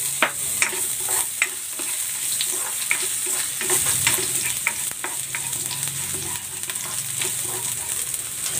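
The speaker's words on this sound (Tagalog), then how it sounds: "Maglalagay ako ng cooking oil. Gigisa ko na tong luya." Ginger sautéing in hot cooking oil, a steady close sizzle with scattered clicks and scrapes of stirring throughout, no voices.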